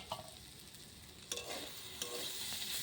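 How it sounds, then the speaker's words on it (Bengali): White ponku greens frying with potato in a covered pan, a steady close sizzle with a few brief stirring clatters, no voices. "এবার শাকটা খুব সুন্দরভাবে ভাজা ভাজা হয়ে গেছে"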